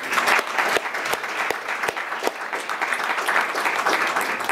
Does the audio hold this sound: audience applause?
yes